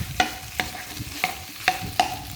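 Pork stir-fried in a hot pan for a Thai rat na dish, with a steady sizzle broken by about five sharp scraping strokes of a spatula against the metal, close up and with no talking.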